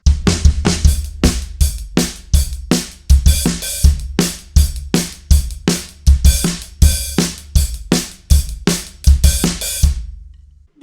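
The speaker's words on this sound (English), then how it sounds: "another hi-hat and kick and snare beat like the instrumental" Drum beat for a song on a kit with hi-hat, kick and snare: a steady groove of punchy kick and snare hits under ringing hi-hat, played close and alone, cutting off just before the end.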